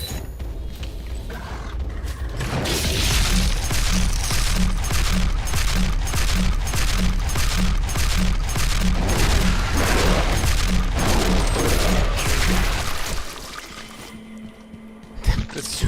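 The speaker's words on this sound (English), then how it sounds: "dumping like super shotgun round after super shotgun round to him" A super shotgun in the video game Quake fires round after round in a rapid, steady rhythm of loud blasts, over a dense wall of game noise that drops away near the end.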